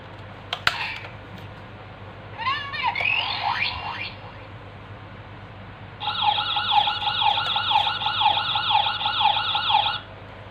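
A small toy megaphone siren wails in two bursts: a short rising whoop, then a steady warbling tone for several seconds, thin and toy-like, after a brief click.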